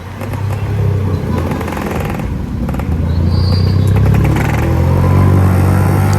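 A modified Yamaha RX100 motorcycle, its engine and exhaust running loud and close in a continuous rough drone that swells as it revs.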